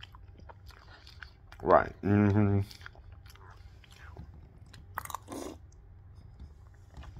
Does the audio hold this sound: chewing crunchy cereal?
yes